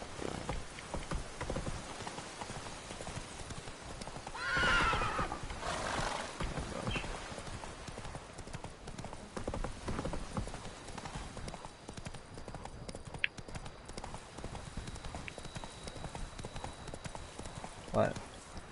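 Hooves of the horse Roach clip-clop steadily in Witcher 3: Blood and Wine, with a couple of brief neighs and snorts and a soft rain-like hiss, while someone talks over it.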